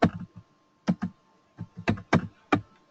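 Short bursts of keystrokes on a computer keyboard while a message is typed into MS Excel, clustered taps separated by brief pauses, close and fairly loud, no voices.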